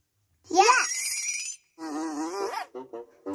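Fly buzzing, voiced by a person imitating it: a bending, wavering buzz for about a second, a pause, a longer buzz, then several short clipped buzzes, loud and close.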